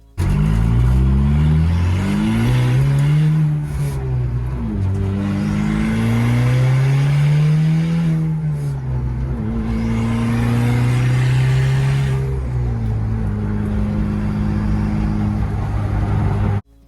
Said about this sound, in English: that was a 4-cylinder turbo Ford Focus ST. That thing sounded good, didn't it?